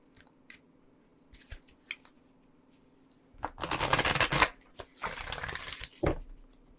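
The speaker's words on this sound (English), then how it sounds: "let's get you some oracle cards and expand on this." Oracle cards are handled with light taps and rustles, then shuffled in two close, crisp bursts of riffling, each lasting about a second.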